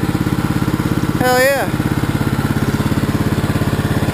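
An old riding lawn mower engine idles close and loud with a fast, even chugging pulse, briefly overlapped by a man's exclamation.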